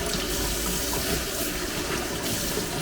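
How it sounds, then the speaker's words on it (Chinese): Tap water pours steadily from a faucet as a rock decoration made of leftover filter stones is rinsed for a tiny fish tank, a close, continuous splashing rush with no voices. "然后洗一下这个假山"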